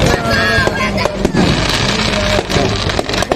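Fireworks burst at the Beypore Water Fest, a dense run of loud crackling pops and bangs close by, with crowd voices mixed in underneath.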